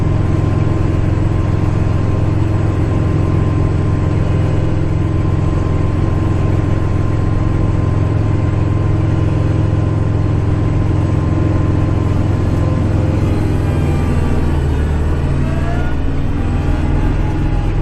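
A snowblower runs continuously while blowing snow, a loud, steady engine drone with a constant churning roar close by for the whole stretch, with no talk.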